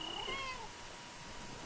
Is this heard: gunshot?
no